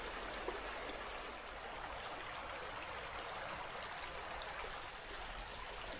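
A river flows steadily near a wild lake outside Trondheim, Norway, making a constant, faint rushing wash of water with no other sounds.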